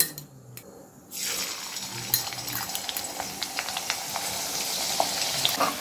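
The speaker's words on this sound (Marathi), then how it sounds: "तेल छान तापल्यावर यामध्ये आपण अर्धा चिरलेला कांदा घालू" Chopped onion sizzles sharply as it hits hot oil for a Kolhapuri mutton curry, a steady crackling fry with small pops and a few utensil clinks.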